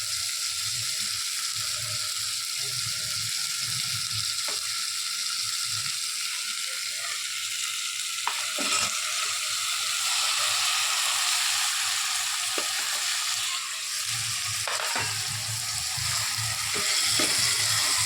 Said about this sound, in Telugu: పొయ్యి కొంచెం పెద్దగా పెట్టుకున్నా మొత్తం టమాటా వేసేసుకుందాం